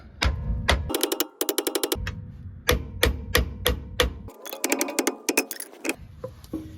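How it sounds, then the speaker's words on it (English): Rapid bursts of sharp metallic hammer blows on a Ford Crown Victoria's steel drive shaft ring out close by, some struck in quick runs of several hits, with short pauses between. "What I like to do is I like to just hit this with a hammer."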